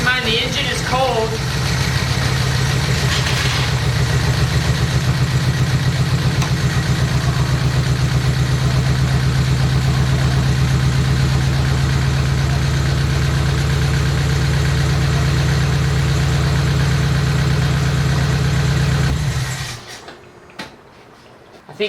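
A cold car engine idles steadily up close, a low, even drone running for about twenty seconds before cutting off abruptly.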